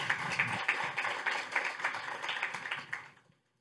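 Audience applauding a speaker at a conference on innovation in France's overseas territories, a brisk ripple of clapping that holds steady and then tapers off to silence near the end.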